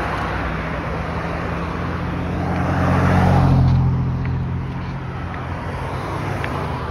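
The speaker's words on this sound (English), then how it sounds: "Traffic today here in the Washington." Steady street traffic on Washington Street in Las Vegas on a rainy morning, with a car swelling louder as it passes close by around the middle, then fading back into a continuous road hum.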